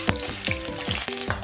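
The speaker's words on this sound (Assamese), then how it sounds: "প্ৰথমে মই আলুখিনি ফ্ৰাই কৰি ল'ম।" Potato pieces fry in hot oil for a turkey meat curry, with a close, low sizzle broken by several quick scraping strokes of a utensil against the pan.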